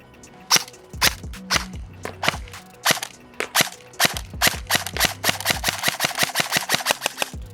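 An Arcturus CAT series modular airsoft gun fires 0.2 gram BBs at a close-quarters target: sharp, snappy shots, spaced out at first, then a fast, steady string of rapid shots, with no talking.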